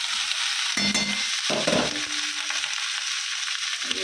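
Lentil dal with cauliflower being stirred in a hot pan, a steady sizzling hiss with a few scraping stirs of the spoon, heard alone with no talk.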